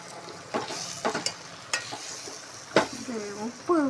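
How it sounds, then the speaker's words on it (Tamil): Chili being stirred in a frying pan, with soft sizzling beneath a series of scraping, clinking spoon strokes against the pan, heard close up and without speech. "பிடிச்சிட்டு நல்லா கிளறி விட்டுருவோம்"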